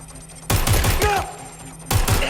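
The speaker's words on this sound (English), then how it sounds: "Shots fired! Shots fired!" Video game gunfire from Watch Dogs Legion: a loud burst of rapid shots that fades into a lower rumble, then a second close burst near the end, with a voice briefly heard mid-clip.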